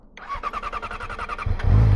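A Yamaha R6 sport motorcycle starter cranks rapidly for over a second before the engine catches and roars to life with a loud, steady idle.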